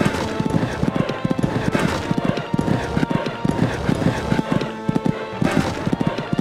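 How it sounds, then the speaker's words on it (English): A horse gallops in the Equestriad 2001 game at the expert Kentucky three-day event, its hoofbeats drumming in a quick, steady rhythm close up and loud throughout. "Going along at a good gallop."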